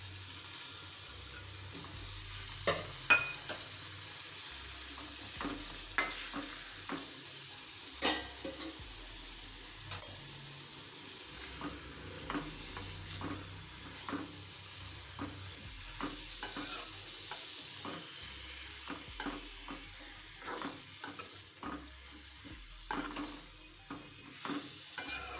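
Chopped tomatoes fry in oil in a pan for an onion-tomato curry, a soft continuous sizzle broken by repeated scraping and clinking stirs, close and fairly quiet.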